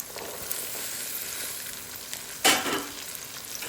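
Onions and vegetables fry in a pan, hissing steadily throughout, with a brief louder burst of sizzle and scraping partway through.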